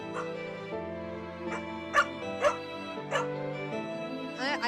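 A puppy yips and whimpers in a run of short, high, nasal cries and a few sharper barks, close by and fairly loud, with no talk over it.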